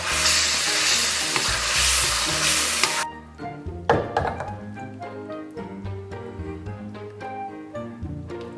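A pork knuckle sauce thickened with starch slurry sizzles loudly in a wok for a few seconds, then quiets into stirring with repeated metallic clanks and taps of a utensil against the wok.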